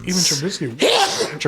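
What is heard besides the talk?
sneeze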